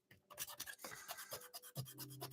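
Fiberglass pen rubbed back and forth across a model railway surface to strip away a printed letter, giving a close, dry rasping scratch in short repeated strokes.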